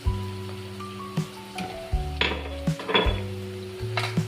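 Onions sautéing in a pan with turmeric and salt, stirred with a utensil that gives repeated clinks and scrapes against the metal over a steady low sizzle, close and moderately loud.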